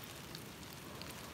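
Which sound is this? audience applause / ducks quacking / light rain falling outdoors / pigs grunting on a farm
light rain falling outdoors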